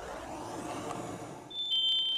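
A faint, muffled background gives way to a high, steady electronic smoke alarm tone that starts partway through and keeps sounding, in a kitchen fire test.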